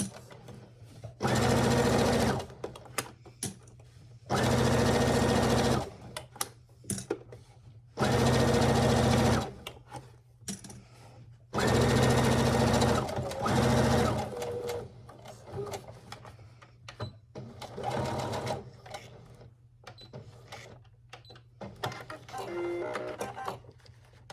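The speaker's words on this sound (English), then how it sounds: "A little back stitch." A sewing machine back stitches seams on a small boxy fabric pouch in several loud, close bursts of rapid whirring, separated by short pauses with handling noise, and someone talks quietly during the gaps.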